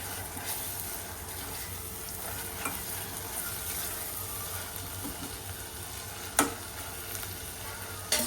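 Finely chopped tomatoes with a pinch of salt sizzle in a pan for a mutton kheema, a continuous close frying hiss broken by a couple of sharp spoon knocks near the end.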